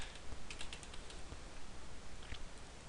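Rapid, light clicks of typing on a computer keyboard in Microsoft Word, close and fairly quiet, coming in short bursts over a faint background hiss.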